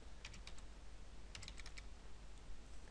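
Quick bursts of typing on a computer keyboard while a scale value is entered into drawing software, soft clustered key clicks over a steady background hum.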